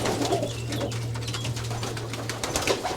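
Modena pigeons in a breeder's loft give low, throaty coos in a steady hum, close by, with rustling and faint bird noise around them.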